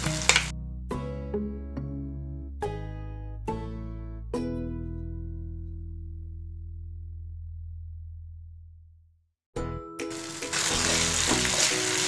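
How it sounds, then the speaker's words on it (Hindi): Ginger garlic paste for chole masala hits a hot pan near the end and sets off a loud, steady sizzle, after several ringing musical tones that fade out into near silence. "इसे मैं अदरक लहसुन की पेस्ट डाल दूंगी 2 टीस्पून।"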